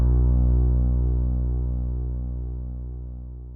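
A dry, reverb-free BRAAM, a deep low brass-like drone with stacked harmonics, loud at the start and slowly fading, no voices.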